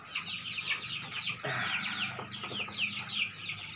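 Chicks under a month old cluck and peep continuously in a busy chorus, close by, with overlapping chirpy calls throughout.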